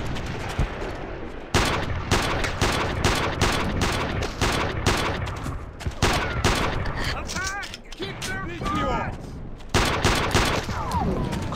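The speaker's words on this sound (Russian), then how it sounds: "Кто в меня стрелял?" Loud rapid gunfire and machine-gun bursts from the video game Iron Storm, dense volleys broken by a brief lull, with a voice talking over the shooting at times.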